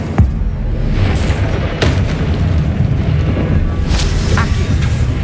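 Incendio fire spell cast in the Hogwarts Legacy video game, a series of loud whooshing bursts and booming impacts over a dense rumbling battle mix, with sharp flares of sound every second or so.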